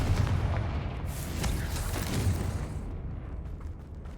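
A Confringo fire spell bursts in Hogwarts Legacy, a sustained booming rumble with a few sharper blasts that fades toward the end, heard alone.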